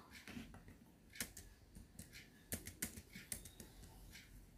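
Someone types accounting data on a computer keyboard, producing soft, quick bursts of key clicks with brief pauses, faint and close.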